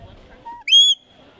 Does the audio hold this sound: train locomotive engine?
no